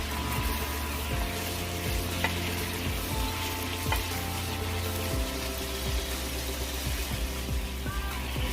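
Stuffed beef steak rolls sear in a pan with a dense, continuous sizzle up close, broken by occasional clinks and the scrape of tongs turning the meat.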